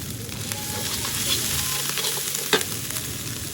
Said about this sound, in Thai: จะเติมน้ำไปผัดพริกแกงให้หอมก่อน